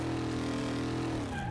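A 1000 HP Spectre car in fourth gear with spinning tires, holding a steady droning engine tone that drops away near the end as the revs fall.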